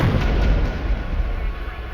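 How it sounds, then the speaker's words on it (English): A package bomb explodes inside an office, a loud, deep, rumbling boom that starts strongly and slowly decays over about two seconds. "It exploded with incredible violence, destroying everything in the office."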